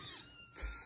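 A two-week-old kitten gives a single short, faint, high meow, close by and alone.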